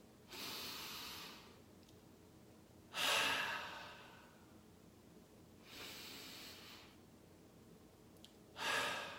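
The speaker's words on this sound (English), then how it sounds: "Take 4 very deep breaths." Slow, deep breaths alternate close to the microphone, with two long airy inhales and two exhales in a steady rhythm, each swelling and fading with quiet gaps between them.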